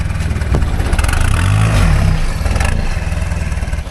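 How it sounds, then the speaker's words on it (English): Toyota Hilux LN106 with leaf-spring suspension idling while creeping slowly, a loud low rumbling engine with clattering knocks and bumps as it moves. "where we're idling with control and going slow"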